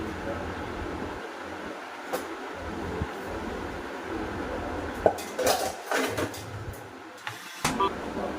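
Household dishes being put away in a home kitchen, with scattered clinks and clatters of metal pots and utensils over a steady background hum, growing busier toward the end.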